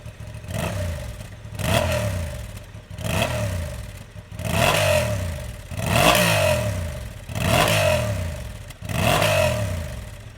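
A 2023 Honda CB750 Hornet motorcycle engine revs up from idle about six times in a steady rhythm, each throttle blip rising and falling. It is close and loud, with no talking.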